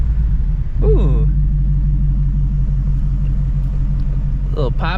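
Shelby GT350 V8 rumbling at night in the rain from inside the car, a steady low drone with a couple of faint exhaust pops, while someone talks briefly over it.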